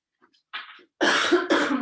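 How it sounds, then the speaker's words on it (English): A person coughs during a yoga session, a soft throat noise followed by two loud, close coughs in quick succession. "I love when I cough"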